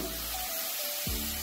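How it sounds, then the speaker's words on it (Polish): Peas and onion fry in a pan with a steady bright sizzle, broken by a brief scraping or stirring sound near the end, and nobody speaking. "I niech to nam się wszystko tutaj pięknie smaży, dusi."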